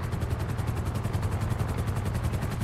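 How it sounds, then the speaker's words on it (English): A coast guard helicopter hovers overhead during a cruise ship rescue in GTA 5, a loud steady rotor chop with rapid rhythmic thumping over a low engine drone. "So now I have two helicopters overhead."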